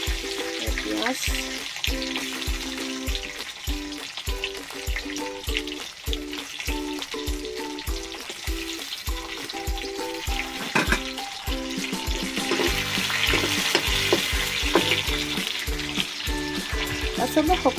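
Sliced onions sizzling loudly in a hot kadai with a bay leaf while a spoon scrapes and stirs them in a steady rhythm, the frying hiss rising toward the end.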